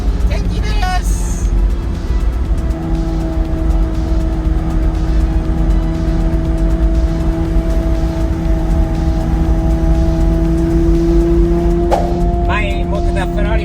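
A modified Japanese-style Lamborghini drives with a loud, steady engine hum and road noise, a brief tire squeal near the end, and people talking over it.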